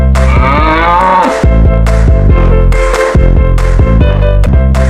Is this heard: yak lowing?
yes